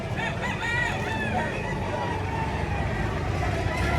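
A rooster, a young bird about eight months old at a chicken market in Padre Garcia, Batangas, crows once or twice at mid distance amid background chatter and the hum of passing vehicles.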